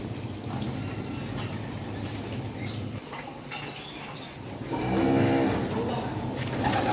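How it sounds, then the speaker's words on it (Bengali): Cattle moo inside a farm shed holding calves of various ages at a cattle research farm in Bogura, with a loud, close bellow near the end over a steady hum of the barn. "এই শেডের দুই পাশে বিভিন্ন বয়সের বাছুর রাখা আছে।"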